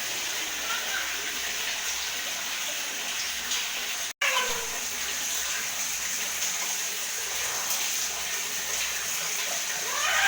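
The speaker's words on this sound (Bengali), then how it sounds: "দুটো কল চালিয়েছে একটা নয় দুটো" Water runs steadily from two taps filling a bath for a young child, a continuous broad hiss and gush with a brief cut partway through and faint splashing.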